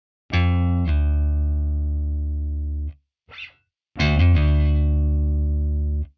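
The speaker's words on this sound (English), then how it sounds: "I should hear my Hammeron as a minor third" Sustained sampled Rickenbacker 4003 bass guitar notes with a quick hammer-on leaping up a minor third, a short gap with a faint pluck, then another hammered note ringing out.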